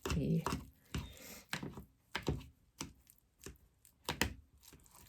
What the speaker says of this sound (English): now what I'm gonna do is mash up the potatoes